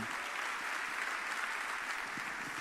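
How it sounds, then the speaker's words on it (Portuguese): Congregation applause during a church sermon, a soft, continuous wash of many hands clapping at a distance, even and unbroken throughout. "Você pode aplaudir a Jesus"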